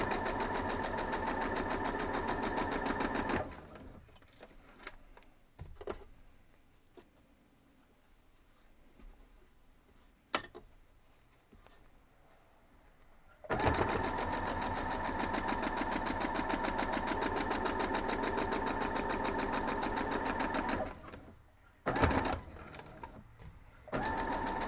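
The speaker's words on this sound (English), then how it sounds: "We're going to go over and sew it up." A sewing machine stitches pieces of a double monkey wrench quilt block in two steady, continuous runs, with a quiet pause between them and brief stops and starts, close and fairly loud.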